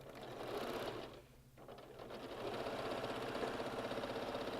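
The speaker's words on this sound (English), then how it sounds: "I'm just going to sew using a 1/4 inch seam allowance." A sewing machine stitches a quarter-inch seam on quilt pieces, running as a steady close mechanical whir that briefly slows and dips, then resumes at a louder, even pace.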